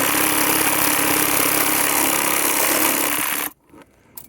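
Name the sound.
reciprocating saw (Sawzall) cutting nails in reclaimed boards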